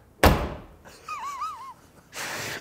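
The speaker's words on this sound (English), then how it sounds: "you can get the door clunk, right?" A Saab car door swinging shut with a heavy, solid clunk, one sharp impact up close, then a faint whining tone and a softer rustle as the door settles.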